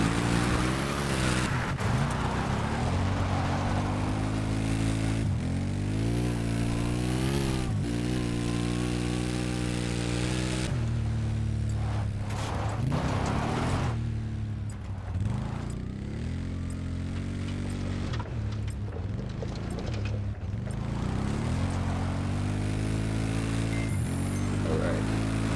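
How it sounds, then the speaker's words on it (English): Battlefield 4 multiplayer match on the Zavod 311 map with a steady, loud engine drone and layered harmonic whine of a helicopter and vehicles, continuous under game noise with bursts of impacts throughout. "I've spotted a hostile helicopter due west of your current position."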